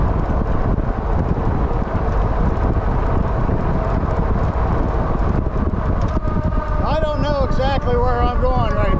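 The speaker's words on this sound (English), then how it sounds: "A little bit windy today" Strong wind buffets the microphone during a ride on a Wallke H9 AWD e-bike on a hot summer day, a constant loud roar throughout, with someone talking near the end.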